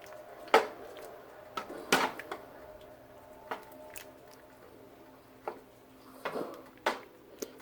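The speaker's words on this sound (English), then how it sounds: "so I did put the frozen spinach inside, and Just gonna mix it around and let it cook in there" Frozen spinach stirred into lentil soup in a pot, giving scattered soft squishes and wet clinks of a spoon against the pot, a few sharper knocks between quieter stirring, close by with no talking.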